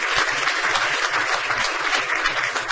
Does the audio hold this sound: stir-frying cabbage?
no